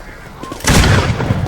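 A Napoleonic-era musket fires in the Roblox zombie game Guts & Blackpowder. After a quiet moment comes a single loud, booming shot with a rumbling tail.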